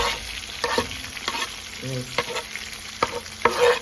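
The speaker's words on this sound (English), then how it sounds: "we're gonna fry our seasoning" Seasoning for ackee and saltfish fries in a pan with a steady sizzle. Scraping stirs come through at intervals, and a voice speaks a single brief word.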